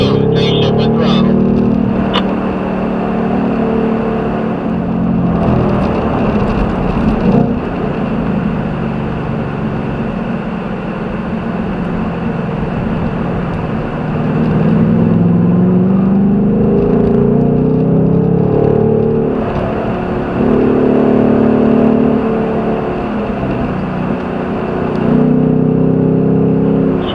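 A Ford Mustang accelerates hard on a road course, its engine droning loud and steady with swells of rising pitch, while a driving instructor talks over it throughout.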